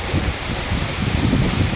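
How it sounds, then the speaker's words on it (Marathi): Heavy rain driven by strong wind roars steadily nearby, a thick wash of noise with gusty low buffeting swelling and easing throughout. "खतरनाक वारा आणि जोरदार पाऊस दोघांचंही एकदम आगमन झालं आहे"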